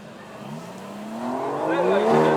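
A sports car engine at a supercar show rises steadily in pitch and loudness as it revs up, growing from a low hum to a stronger whine.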